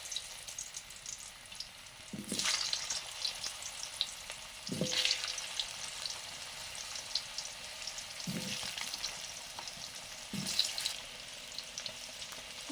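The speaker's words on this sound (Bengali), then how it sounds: "সর্ষের তেল দিলাম, প্রথমে আমি আলুগুলো ভেজে নিচ্ছি।" Potatoes frying in mustard oil in a pan for a crab curry, a steady soft sizzle with a few louder bursts as the pieces are stirred or turned, close by and with no talking.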